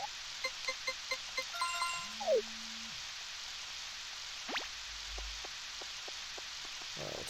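Steady rain falls in Harvest Moon 64, a soft constant hiss filling the scene while brief game tones and chimes pop up over it.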